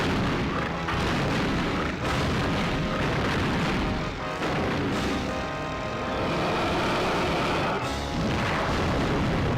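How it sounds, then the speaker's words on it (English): A boss unleashing a fire wave attack in Donkey Kong 64's Fungi Forest: a loud, sustained roaring rumble with whooshing, explosive bursts that fills the whole stretch without pause, dipping only briefly twice. "he's going to do a fire wave attack"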